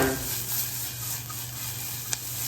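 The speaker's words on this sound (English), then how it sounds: "So as onions are cooked, the jalapenos are starting to cook as well." Onions and jalapenos sizzle in a pan for a cheese soup turned queso, a soft, steady frying hiss with a single sharp click near the end and no talking.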